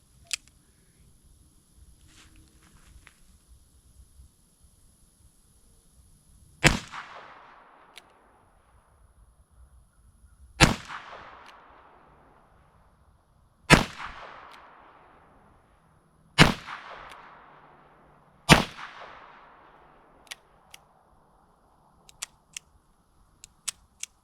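Five loud, sharp shots ring out at uneven intervals from a Smith & Wesson 648-2 .22 Magnum revolver firing Federal ammunition at a range, each crack trailing off in a short echoing decay, with faint clicks between.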